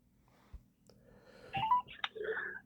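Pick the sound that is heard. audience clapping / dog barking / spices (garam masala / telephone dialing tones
telephone dialing tones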